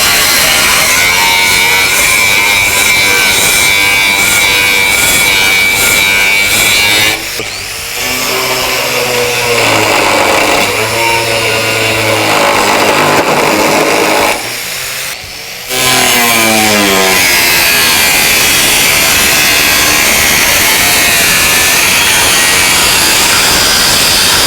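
An HDII power tool grinds loudly and continuously at rust or paint, a harsh high whine that dips twice as the load changes, then picks up again, close and dominant throughout.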